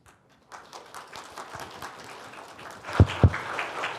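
Scattered light clapping from a small church congregation during a Sunday service, with two louder, sharper claps standing out near the end.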